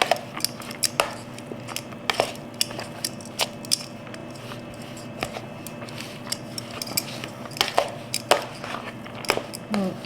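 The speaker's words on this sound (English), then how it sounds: "we just want to get these coated really well. Just mix it really well" Shredded potatoes tossed with olive oil in a bowl give a steady run of soft scraping and clinking from a utensil against the bowl, with sharp tapping hits scattered throughout, close and moderately loud.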